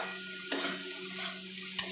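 Papaya sizzles gently in a frying pan while a spatula stirs it with added sugar, two distinct metallic scrapes spaced over a continuous soft frying hiss, heard up close.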